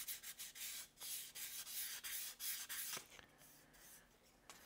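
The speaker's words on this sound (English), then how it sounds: "I now have these sanded down." Hand sanding of the air conditioning vents for a 1964 Chevelle, a steady dry scraping rub in repeated back-and-forth strokes, close and fairly quiet, with a short pause near the end.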